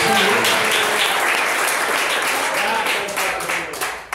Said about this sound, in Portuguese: Pode bater palmas e glorificar o nome do